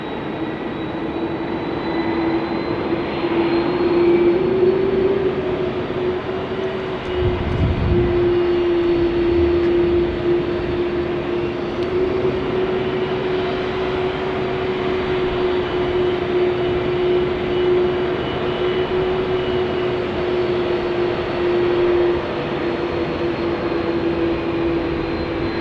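A jet airliner taxis at Sydney Airport, its engines holding a steady, loud drone with a sustained hum throughout, close by and with no voices over it.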